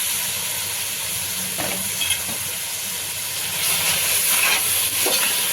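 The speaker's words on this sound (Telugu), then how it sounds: "ఒక 6-7 నిమిషాలు మాత్రం మనము స్టవ్ని హైలో ఉంచుకొని ఈ మటన్ చక్కగా కీమాని ఫ్రై చేసుకోవాలి" Minced mutton keema fries on high heat in a pan, giving a steady close hiss and sizzle with occasional stirring scrapes, no talk over it.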